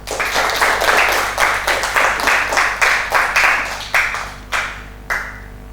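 A classroom of students claps together, a burst of overlapping hand claps in an uneven rhythm that thins into a few scattered, separate claps before fading out.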